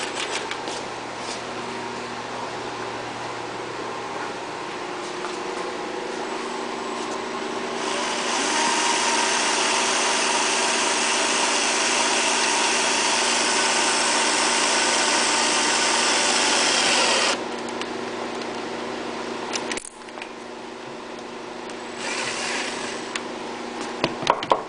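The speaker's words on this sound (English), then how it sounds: "take it easy when you drill the hole." A power drill whines steadily while boring into the cast aluminum of a Yamaha EF6300is generator, growing louder and harsher through a long middle stretch before easing off. No one speaks.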